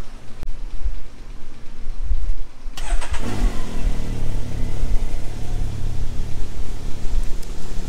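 A 2020 Can-Am Maverick X3 RR Turbo engine, freshly ECU-flashed, cranks and fires at close range, then settles into a steady, loud idle that carries on to the end with no talk.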